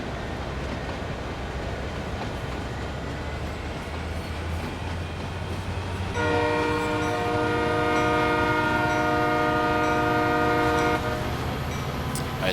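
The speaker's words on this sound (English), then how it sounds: "The moment you throttle up to all the way up to 8, the engines are screaming hard, working hard" Diesel locomotive engines in Train Sim World 4 throttle up to full power, a heavy low rumble that swells and is joined midway by a loud sustained multi-tone horn blast, with no one talking.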